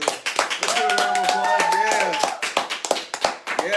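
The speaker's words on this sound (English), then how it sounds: "Let's get a round of applause for Mykayla." Scattered hand clapping for a scholarship award winner, sharp claps coming and going under a sustained tonal sound, with voices mixed in.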